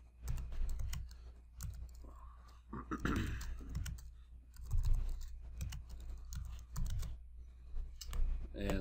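Configuration values typed on a computer keyboard, a run of quick, close key clicks in uneven bursts, with someone speaking between and over the tapping.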